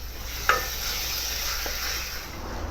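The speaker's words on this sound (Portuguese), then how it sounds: "tô com a minha cebola, com o meu alho, com o meu tomate já refogando" Chopped tomato sautés with onion and garlic in a pan, a steady close sizzle broken by a couple of scraping stir strokes, with no voices.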